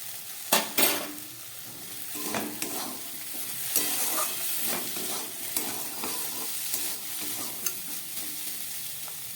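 Vegetable biulir dal with grated ginger frying in a pan, a soft sizzle under sharp metallic scrapes and clinks of a spoon stirring against the pot, irregular and close, no voices.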